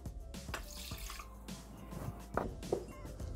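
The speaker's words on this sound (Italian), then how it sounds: "Iniziamo la ricetta mettendo all'interno del boccale l'acqua" Water poured into a Thermomix TM6 jug, producing soft splashing and dripping sounds with a few sharper drips, faint and close in a quiet kitchen.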